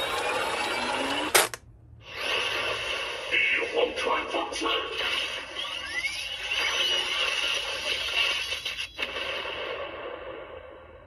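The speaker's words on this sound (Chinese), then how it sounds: "整块面板高速旋转，配合着电机和齿轮的声音" A motorized toy armor belt whose whole panel spins at high speed, giving a sharp click, then a steady whirring motor and gear buzz with rattling and scraping over it, close and fairly loud, cutting out briefly near the end.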